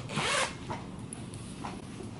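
A zipper on a baby sleep sack is pulled closed in one quick, close rasping stroke, followed by a couple of faint softer fabric ticks.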